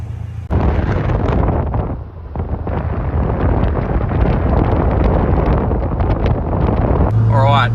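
A $1,000 Honda Civic on the road, cabin-heavy roar of engine, tyres and wind buffeting steadily, loud and unbroken throughout.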